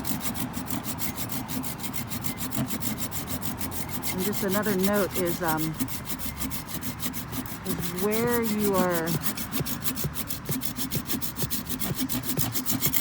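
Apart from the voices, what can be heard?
hand saw cutting a branch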